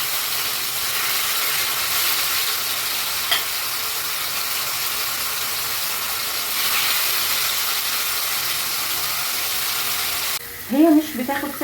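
Chicken frying in a few spoonfuls of oil in a grill pan, a constant close sizzling hiss that carries on steadily, with a voice speaking briefly near the end.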